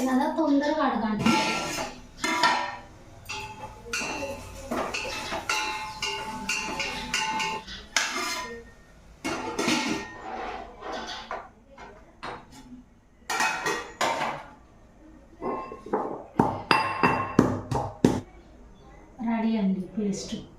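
A steel bowl clinks and clatters in a home kitchen. The metallic knocks and rattles come in irregular bursts with quieter gaps, and a voice is heard briefly.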